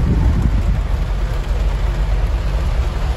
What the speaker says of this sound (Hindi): देखो बारिश बाढ़ के हालात हो रहे हैं जयपुर में